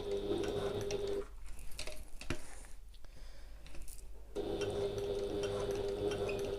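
A sewing machine stitches fabric in two bursts of fast, even mechanical whirring, close and moderately quiet, separated by a pause with faint handling clicks as the thread is worked back to the starting point.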